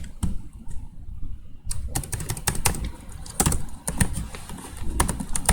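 Rapid keystrokes on a computer keyboard while entering sales target figures into an Excel sheet, a fast irregular clatter of clicks with brief pauses, close and fairly loud, with no talking.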